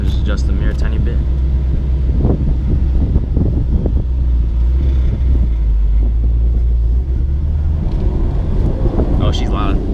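A 5.0 with a manual gearbox, cat delete and a broken exhaust hanger drones loudly while driving, a steady deep engine rumble under ongoing talk, with bursts of wind noise.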